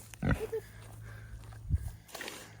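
Boars grunt close by outdoors on a farm, two short low grunts about a second and a half apart, with faint rustling and a brief voice in the background.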